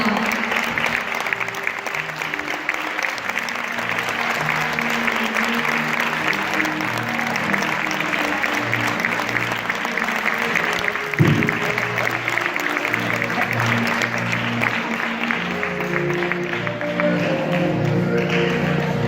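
Sustained applause from a crowd at a Falles presentation event fills the whole stretch, steady and dense, with background voices and music murmuring underneath.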